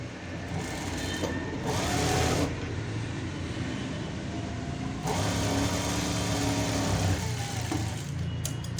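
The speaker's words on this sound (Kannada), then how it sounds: "ಸೊ ಇಲ್ಲಿ ಮಾತ್ರ ನಾವು ಉಲ್ಟಾ ಹಾಕೊಂಡು ಸ್ಟಿಚ್ ಹಾಕ್ತಾ ಇದ್ದೀವಿ ಸೊ ಈ ಡಬಲ್ ಸ್ಟಿಚ್ ಹಾಕೊಳ್ಳಿ ಇಲ್ಲಿ" Sewing machine stitching a seam on a semi patiala pant, a steady mechanical whirr running in bursts with short pauses between runs, close and continuous without any talk.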